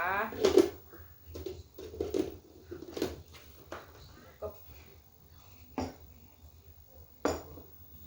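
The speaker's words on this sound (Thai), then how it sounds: "แล้วเราก็ปิดฝา" Plastic lid pressed and clicked onto a blender jar of ginger and boiled water, a few short sharp knocks and clinks against the jar, close and fairly quiet, between bits of a woman's speech.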